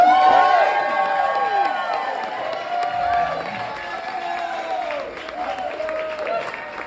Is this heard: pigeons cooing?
no